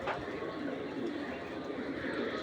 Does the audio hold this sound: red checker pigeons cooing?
yes